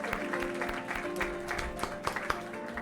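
Clapping from a group with a few scattered cheers in a game, steady and fairly close, with bright hand-clap bursts running throughout.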